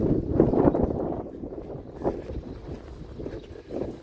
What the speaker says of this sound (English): And it's windy out here